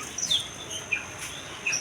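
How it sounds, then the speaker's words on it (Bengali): Budgerigars chirp at a busy bird and pigeon market, with a few short, high tweets scattered over a soft background hum, fairly faint and with no talking. "আর এইদিকে পেয়ে যাবেন অসংখ্য বাজরিকা পাখি, জাপানিজ"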